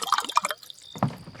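Water poured and set out for guests at a meal, a short close run of liquid trickling and splashing, then a quiet gap and a brief final gurgle.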